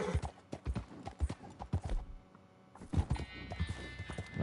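Horse hooves clip-clop in Red Dead Redemption 2, a quick uneven run of close hoof strikes that pauses briefly midway before resuming, loud and alone.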